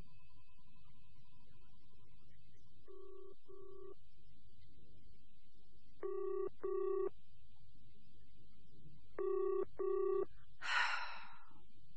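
Repeated double-pulse telephone ringback tones sound over a quiet line, going unanswered, with a brief breathy noise at the end.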